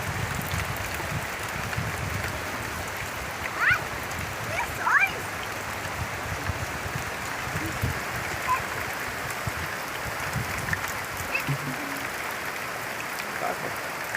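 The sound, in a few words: rain falling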